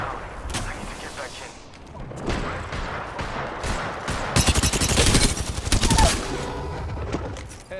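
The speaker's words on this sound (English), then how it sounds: "Getting shot at." Rapid gunfire in the video game Apex Legends, with bursts of automatic fire and single shots crackling loudly through much of the stretch while a voice talks over the action.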